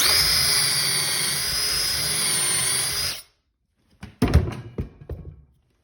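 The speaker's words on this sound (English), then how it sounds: "If I drill a second one" A drill boring a pocket hole through a pocket hole jig whines loudly and steadily for three seconds, then stops abruptly, followed by a few knocks and clunks of handling.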